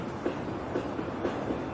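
Train rolling steadily in Final Fantasy VII, a continuous low rumble with rhythmic clickety-clack of wheels on track joints repeating about every half second, moderately close and unbroken.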